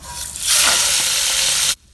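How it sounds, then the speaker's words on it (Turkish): A loud sizzle swells as chicken hits hot oil, hissing steadily for over a second before cutting off abruptly. "Şimdi kızgın yağın içine bırakıyorum"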